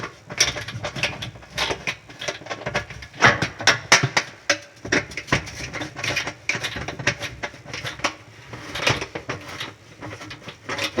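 Screws holding a GE oven element are undone at the back of the oven, with rapid irregular clicking and ratcheting of the tool plus scraping and rattling of metal, close and fairly loud.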